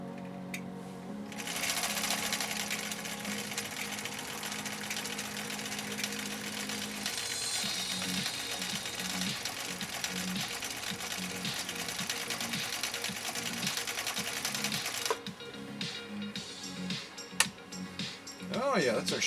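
A 1962 Husqvarna Viking Type 21E sewing machine runs steadily on cam B, stitching a decorative shell pattern with a continuous fast mechanical whir and rhythmic clatter. It pauses briefly near the end, with some talk underneath.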